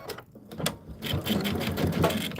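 A sewing machine stitches fabric with a steady, close mechanical whir and rapid needle clatter building after a brief start.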